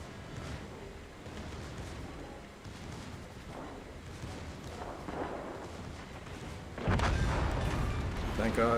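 Naval artillery fire in the World of Warships Legends game, a steady rumble of distant shell booms and bursts under game noise, growing louder and denser near the end as heavy high-explosive salvos land close.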